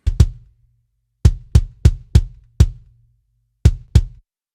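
A pop punk kick drum recorded with a microphone inside the drum gives a series of punchy, isolated thumps in an uneven pattern, each with a sharp attack and a short low decay, heard alone.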